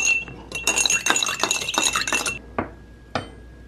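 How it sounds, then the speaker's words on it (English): Spoon stirring Kool-Aid inside a Stanley cup, a close run of quick ringing clinks and scrapes against the cup wall, then two or three isolated taps as it settles. "Just stirring to get the it gets a little sediment at the bottom."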